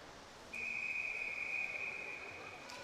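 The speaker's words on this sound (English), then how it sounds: "They get that second whistle." At a para swimming world series meet, a referee's whistle sounds one long, steady blast of more than a second before the women's 200 meter freestyle start, over a hushed pool-deck ambience.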